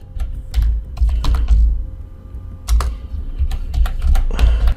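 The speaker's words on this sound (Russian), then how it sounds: "В настройках в первом поле текст мы пишем любой какой-то свой текст." Keys on a computer keyboard are struck in quick, close-up bursts of clicks while text is entered into a settings field, with brief pauses between runs of typing.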